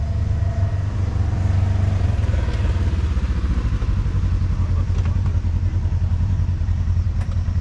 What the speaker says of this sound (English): Try not to get run over by the golf cart.